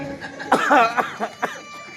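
A voice imitates a deep, chesty cough: a few hacking bursts close to the mic, with a longer rough spasm followed by two shorter coughs.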